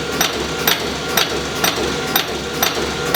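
A Strippit LVD 1000XP 20 high-speed punching machine fires sharp, loud punch strikes at a regular pace, about seven hits in three seconds, each a crisp metallic thump over a steady machine hum.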